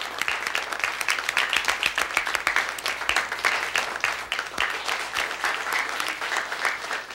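A classroom of students applauds a classmate whose grades jumped to second place, a lively, continuous patter of many hands clapping at close range, steady and fairly loud throughout.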